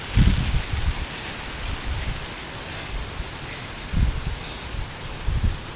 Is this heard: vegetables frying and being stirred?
no